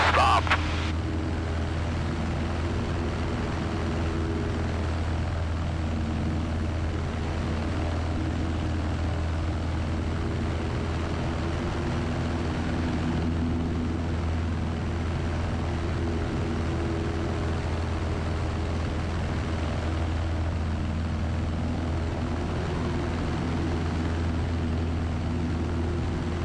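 Steady, loud drone of a small propeller airplane in flight between Cody and the Wood River, heard from inside the cabin, with a constant low engine hum and propeller buzz filling the whole stretch.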